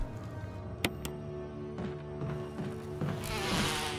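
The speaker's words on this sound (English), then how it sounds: "I want to be careful with these bees" Bees drone in the Resident Evil Remastered game, a steady close buzzing hum that swells toward the end, with a couple of sharp clicks early on and no talking.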